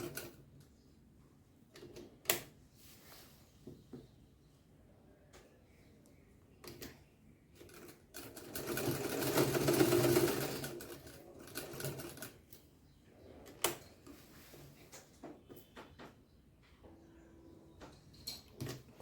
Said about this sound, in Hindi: हमें ये सिलाई भी कंप्लीट कर ली है, आप देख सकते हो।